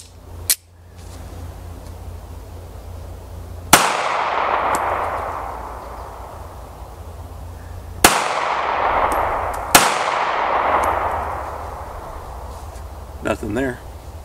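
A Springfield 911 .380 ACP pistol fires full metal jacket rounds outdoors: three sharp, loud shots spaced seconds apart, each followed by a long echoing decay.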